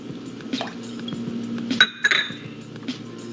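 Soy sauce poured for a garlic pickle sauce, a low liquid trickle under light clinks of glass and cutlery, with a bright ringing clink midway, close and quiet, no voices.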